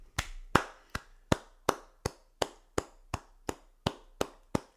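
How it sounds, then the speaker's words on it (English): About a dozen sharp hand claps at an even, steady pace, close and fairly loud, with a slight room echo behind them and no talking. "I need to actually clap for them"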